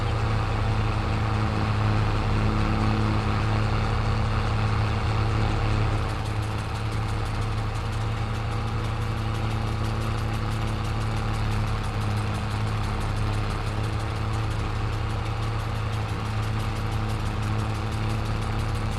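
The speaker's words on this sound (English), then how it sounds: "I wish whoever made this tractor would just take the sound down just a tiny bit" Tractor engine in the Farming Simulator 22 game, running steadily while hauling a wagon: a loud, constant low droning hum with a fixed idle-like pitch, slightly louder for the first few seconds, then holding level with no talk.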